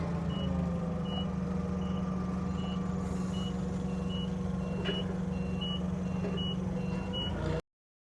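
A forklift's reversing alarm beeps steadily in an even repeating rhythm over a loud, constant engine hum outdoors, continuing until the sound cuts off abruptly.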